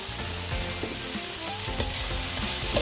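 Mushrooms, broccoli and vegetables for a soup being stir-fried with a pinch of salt, a continuous close sizzle broken by repeated utensil scrapes and clinks, with no voices.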